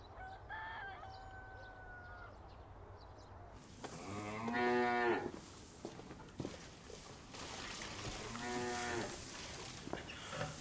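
Cows moo on a farm, two long drawn-out lowing calls several seconds apart, fairly close, with faint rooster crowing and bird calls in the quiet background early on.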